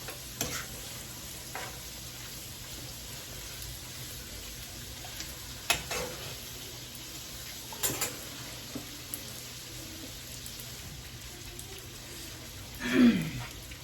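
Sausages sauté in a pan with a steady, quiet sizzle underneath, broken by a few sparse clicks and utensil taps and a brief louder scrape near the end.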